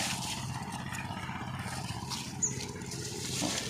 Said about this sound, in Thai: เสียงรถไถก็ดังมากเลยข้างบ้าน